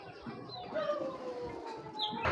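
Pigeons in a loft give soft, low cooing calls, a few drawn-out notes close by over faint background rustle, with no one talking.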